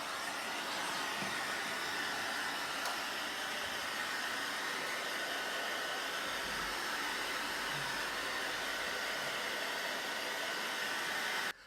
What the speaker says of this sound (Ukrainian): після цього ще раз прогріваємо цю фару феном